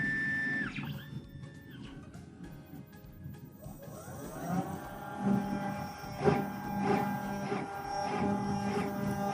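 A Bantam Tools desktop PCB mill drills holes with a 1/32 flat end mill, its motor whining and pitching up after a quieter start, with repeated rhythmic cutting bursts close by.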